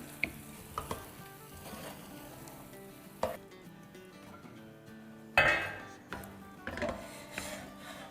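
Tamarind pulp being stirred into moong dal in a pot, with spoon clinks and scrapes against the metal over a low sizzle, several distinct knocks, close and moderately quiet, no speech.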